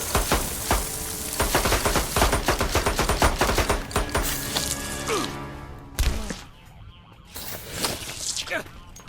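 Rapid pistol gunfire from the Mortal Kombat 9 story mode, dense loud cracks fired in quick succession, trailing off into quieter game effects.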